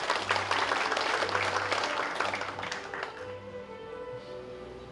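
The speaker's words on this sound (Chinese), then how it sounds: "掌声欢迎尤院长" Audience applause at a formal ceremony as a former dean is welcomed to the podium, dense clapping loud at first, then thinning and fading over a few seconds.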